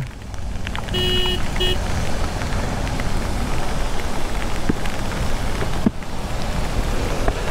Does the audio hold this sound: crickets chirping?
no